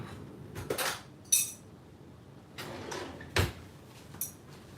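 A big metal spoon clinks against a bowl of potato salad in a home kitchen, a few sharp irregular taps and scrapes spaced apart, close and moderately loud, with no talk over them.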